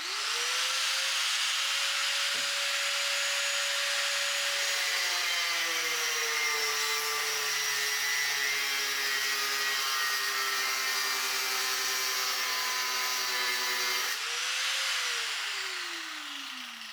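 An angle grinder powered from a Bluetti Apex 300 portable power station whines steadily at close range, its pitch easing down under load, briefly rising again and then spinning down at the end.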